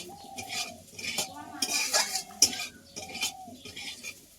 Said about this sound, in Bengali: নিম পাতাটা দিয়ে দিলাম। এবার দেখো একটু নাড়াচাড়া করে নেবো আরেকটু